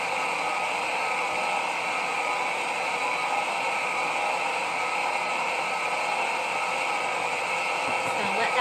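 An electric mixer whips shampoo bar ingredients, giving a steady, even whirring hum that holds unchanged throughout with no pauses and no voices.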